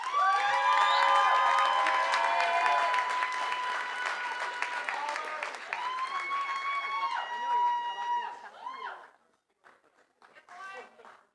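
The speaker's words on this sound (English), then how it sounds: "Chaz, oh, they're still cheering" A crowd at a graduation recognition ceremony cheers and whoops loudly for several seconds, with many overlapping voices, before the noise tapers off into scattered calls and quiet.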